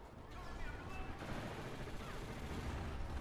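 A gun fires on full auto in a video game: a dense, continuous burst of rapid loud shots running the whole time, with a voice heard faintly underneath.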